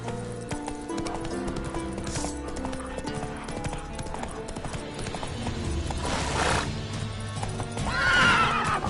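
A horse in The Witcher 3 game neighs and whinnies loudly, rising to a strong whinny near the end, over a steady clip-clop of trotting hooves and a musical game soundtrack.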